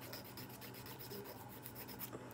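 A nail file rasps steadily across fingernails, shaping them in close, continuous rubbing strokes with no pauses and no voices.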